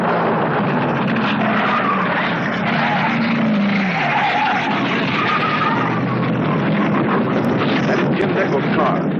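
A drag race car crashes, roaring engine noise with a long tire skid and scraping down the track, loud and continuous, while an excited announcer talks over it.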